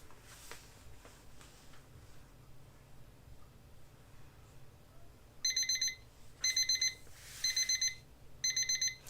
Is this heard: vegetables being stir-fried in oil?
no